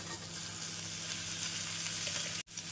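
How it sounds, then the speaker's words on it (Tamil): Ginger garlic paste and cauliflower sauté in a pan with a soft, steady sizzle that runs unbroken until a sudden brief dropout near the end. "இஞ்சி பூண்டு விழுது சேர்த்து நன்றாக வதக்கிய பின் காலிஃப்ளவரை சேர்த்து விடலாம்"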